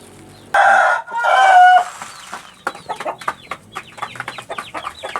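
A rooster crows loudly twice up close, followed by a run of chickens clucking in quick, uneven bursts.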